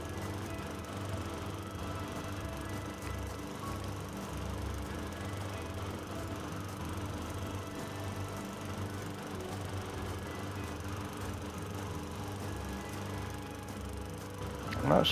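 A lawn mower in the video game House Flipper 2 drones steadily and evenly throughout, a buzzing motor hum at moderate loudness with no talking over it.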